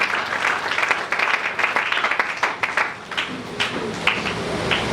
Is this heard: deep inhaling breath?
no